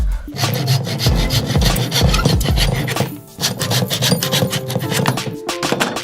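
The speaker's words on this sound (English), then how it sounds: "Just use the shotgun shell to mark the length of your dowels and cut them to that length." Wooden dowels sized to fit shotgun shells are cut to length with a hand saw, heard as close, loud, rhythmic rasping strokes that pause briefly midway before the sawing resumes.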